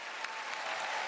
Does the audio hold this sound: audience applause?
yes